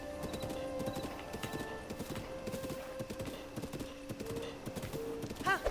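Horse hooves clip-clop steadily in Zelda: Breath of the Wild, a close, even walking rhythm with light ambience and a brief whinny-like flourish near the end.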